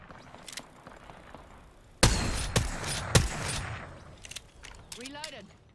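Gunfire in the Apex Legends video game: several sharp loud shot bursts in quick succession after a quieter stretch, with faint footsteps and scattered impacts around them and a brief whooshing effect near the end.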